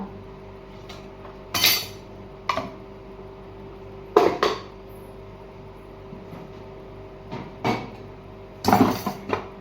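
Garlic pounded by hand in a home kitchen, about seven sharp metallic strikes spaced irregularly, close and fairly loud over a quiet background hum.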